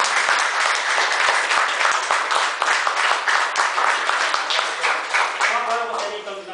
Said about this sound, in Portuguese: Nossos aplausos também